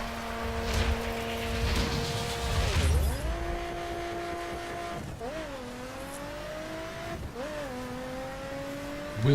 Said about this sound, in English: Wheel spin in first gear